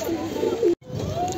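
Pigeons coo close by in a low, rolling murmur, with a brief break before the cooing resumes.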